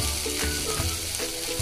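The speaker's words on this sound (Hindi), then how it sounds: "थोड़े से फ्राई कर लेंगे।" Tomato, capsicum and onion fry on a hot tawa, giving a steady, close sizzle with a few soft knocks of stirring over a short stretch.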